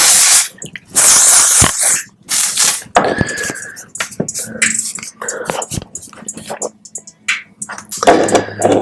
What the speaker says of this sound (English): is go ahead and spray it.